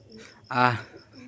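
A baby pigeon coos once, close and fairly loud, in a short throaty burst that stands out over a quiet room at night with soft low murmurs around it.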